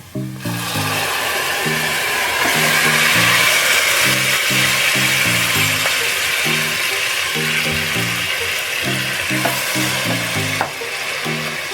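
Marinated chicken pieces sizzle as they go into a pan of browning onions, a loud steady frying hiss with rhythmic scraping and stirring knocks throughout, no voices.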